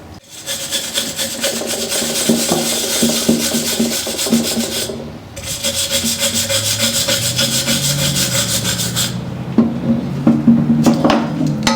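Steady rasping scrape of a tool against carbon buildup inside a cast-iron exhaust heat riser, continuous and loud with a brief pause midway, then resuming with some metallic clinks.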